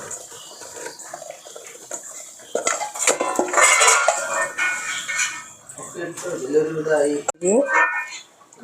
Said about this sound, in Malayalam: നമ്മൾ കലത്തിൽ ചക്ക അരിഞ്ഞ് വൃത്തിയാക്കി വെച്ച് ചക്ക നമ്മൾ അതിലിടുക.